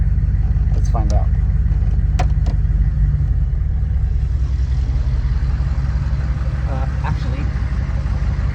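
A 6.5 diesel engine runs steadily with the truck held in reverse, a loud low rumble that shifts in tone partway through, with faint speech over the top.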